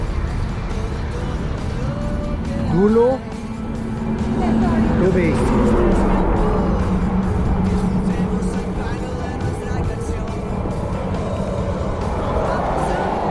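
Cars travelling along the road near Hoover Dam: a continuous engine and tire rumble, with one vehicle sweeping past close by early on, while someone talks over the traffic.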